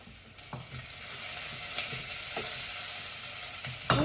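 Onions and peppers with garlic and a little chilli fry in a pan, giving a steady close sizzle broken by a few soft stirring scrapes and taps, with no talking.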